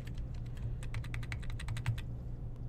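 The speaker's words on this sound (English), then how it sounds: "So now if I press a key on the keyboard, it doesn't matter which key" Keys clack on a computer keyboard, a quick irregular run of sharp close taps, some grouped tightly together, over a low steady hum.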